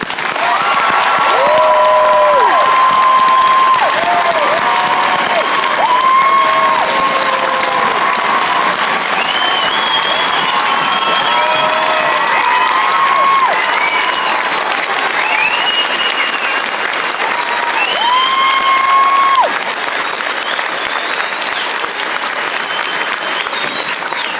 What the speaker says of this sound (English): would you please join me in a round of applause for America's newest soldiers?